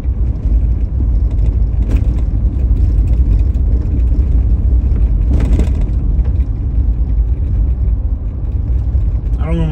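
A car drives fast through Jacksonville back streets at night, a steady low engine and road rumble filling the cabin with a couple of brief louder bumps or passes.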